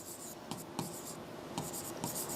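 Marker or chalk scratching across a board during a physics lesson, a few short bursts of writing strokes over a quiet room.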